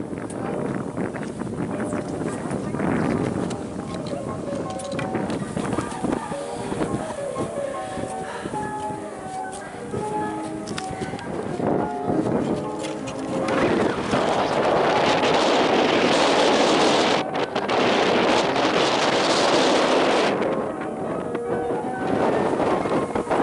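Strong gale-force wind roaring steadily and loudly at close range, buffeting the microphone and surging harder in the second half, with no voices.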